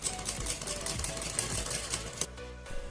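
A sewing machine stitches piping onto a fabric strip, running in a rapid, even mechanical rhythm up close before stopping abruptly near the end.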